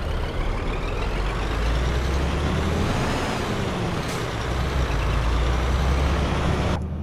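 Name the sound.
truck engine and air brakes in video game Euro Truck Simulator 2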